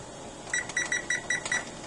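A kitchen timer sounds six short, evenly spaced electronic beeps, clear and fairly close, while a pot of corn on the cob boils for six minutes in a home kitchen.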